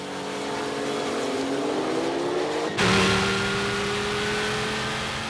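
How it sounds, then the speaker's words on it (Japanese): A Nissan GT-R and a Porsche 911 Turbo accelerate hard in a drag race, their engines giving a loud, sustained drone that rises in pitch, with a sudden surge as a car passes close partway through. "加速は全く互角、スタートの差をそのまま持ち越して GTR911 ターボを抑えた。"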